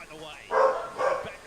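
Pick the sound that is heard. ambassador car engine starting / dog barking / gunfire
dog barking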